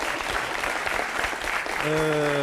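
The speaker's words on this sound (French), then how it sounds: "les femmes qui vous applaudissent" A studio audience of women applauds in a TV studio, with dense steady clapping close by; near the end a bright sustained musical tone rises over it.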